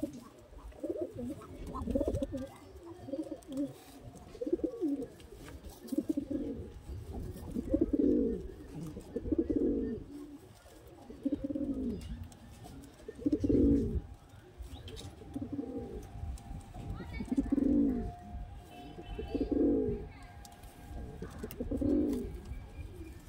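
Madrasi pigeons cooing in a steady series of soft, low, repeated calls, fairly close and moderately quiet.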